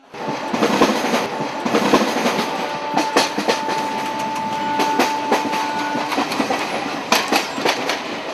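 A train rolls toward Mirzapur station in India, its wagons clattering in a steady clickety-clack with sharp rhythmic wheel knocks and a sustained metallic squeal tone, close and loud throughout.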